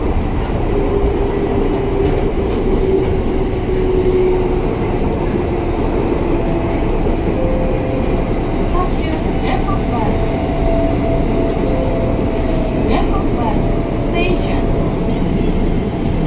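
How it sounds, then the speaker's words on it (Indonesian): A KRL commuter train rolls into track 3 at Depok Baru station, a loud steady rumble of wheels and car noise lasting throughout, with faint tonal squeals and occasional clicks. "Kita masuk ke jalur 3 stasiun Depok Baru."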